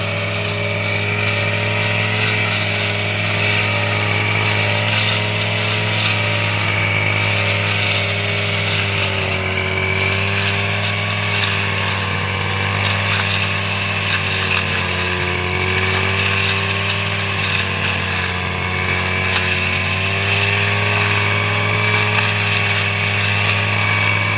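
A motorized tea bush trimming machine cuts through tea plants in a tea garden, its engine droning loud and steady with a sustained whine throughout, no speech.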